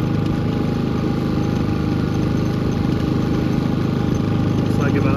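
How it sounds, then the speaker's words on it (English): A small portable gas generator hums steadily nearby, a constant engine drone with a low rhythmic idle pulse and no change in pace from start to finish. "So here we are hooked up to generator power."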